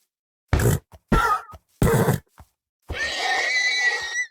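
Minecraft horses give three loud, close grunting snorts in quick succession, then a longer shrill whinny, with no talking.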